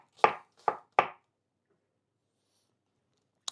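A knife chops onions on a board: three sharp, close thunks in quick succession, then near silence, and one more chop after a long pause.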